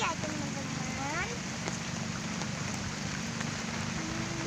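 Rain falls in a steady, close hiss on surfaces outdoors, continuous throughout with a faint voice or tones drifting under the downpour.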